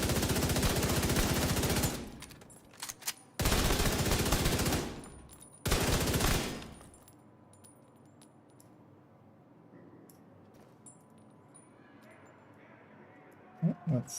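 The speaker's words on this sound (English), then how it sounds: "So there we have the body shot. Let's get the headshot." Rapid bursts of automatic gunfire from The Division video game, three loud sustained volleys in the first seven seconds, then quieter game ambience with a couple of faint clicks near the end.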